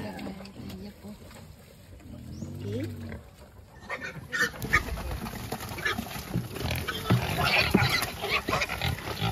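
Native pigs in a farm pen grunt and shuffle among a large herd, with people talking nearby and the activity growing louder and busier partway through.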